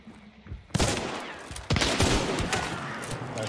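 Gunfire in a first-person shooter game: sharp shots and rapid bursts ring out loud and close, rattling on in a dense fusillade over a low background rumble.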